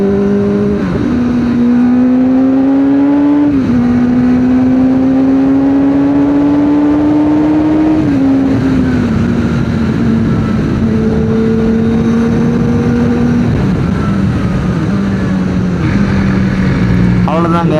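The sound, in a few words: Kawasaki ZX-4RR motorcycle accelerating in sport mode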